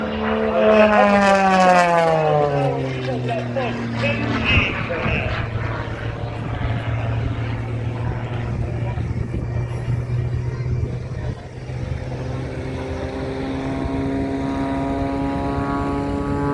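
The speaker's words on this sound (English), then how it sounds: "as the engine control moves into a big, gigantic barnstormer loop here at the show center." A propeller airplane flies a big barnstormer loop at the Owls Head, Maine air show, its engine droning loud and close with a rising then falling pitch as it climbs and pulls over, steady throughout.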